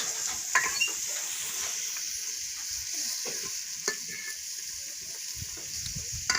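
Spices tempering in hot oil for a potato curry in a village kitchen in Pakistani Punjab give a steady close sizzle and hiss with faint stirring scrapes throughout, no talking.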